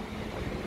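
Strong, cold autumn wind buffets the microphone in a steady, dense rush with low rumbling gusts, loud and continuous throughout this short stretch, with no voices present.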